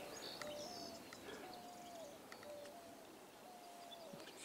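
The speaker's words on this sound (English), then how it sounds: "You can hear all the doves in the background there." Doves coo repeatedly in the Arizona desert among pine, palo verde and ironwood trees, their soft rising-falling calls distant and steady under faint chirps and open-air background.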